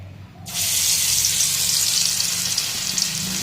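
Lentil and rice flour fritters drop into hot oil and burst into a loud, steady sizzle after half a second of near silence, the hiss continuing unbroken and close.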